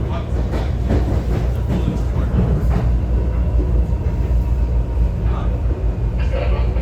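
An NJ Transit Arrow train rolls along the rails near Newark Penn Station, a steady loud rumble with rail clatter and occasional squeals, alone at close range.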